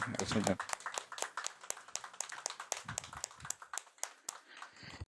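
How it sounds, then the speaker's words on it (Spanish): Scattered hand claps ring out in a quick, uneven rhythm, a small church congregation applauding nearby after a sermon, with a voice heard briefly at the start. "Vamos a darle un aplauso a la palabra del Señor."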